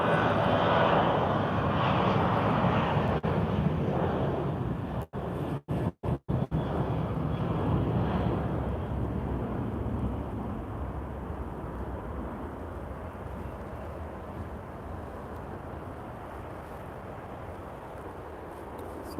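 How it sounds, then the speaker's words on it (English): A Ryanair airliner takes off at Lisbon airport with a loud, steady jet roar that fills the whole clip, interrupted by a few brief dropouts partway through. "And this Ryanair is taking off."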